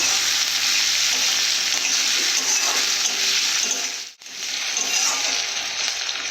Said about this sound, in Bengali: আমি এখানে আদা রসুন দিয়ে ভালো করে কষে নেব